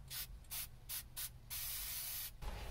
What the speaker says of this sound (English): So now we're gonna apply some spray paint to a cloth.